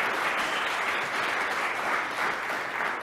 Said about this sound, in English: give them a cheer too